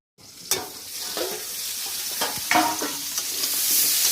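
Vegetable curry fries in a pan while being stirred, a continuous hissing sizzle with several scraping spatula strokes, close up and fairly loud, no one speaking.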